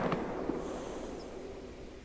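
Rifle shot in the hunting game theHunter: Call of the Wild: a single sharp report right at the start, fairly faint, with a short, fading rumble after it and no other sounds.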